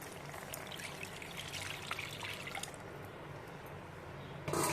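Dissolved tamarind water is strained and poured into a simmering garlic curry, a steady close trickle and splash running for several seconds before a louder burst at the end.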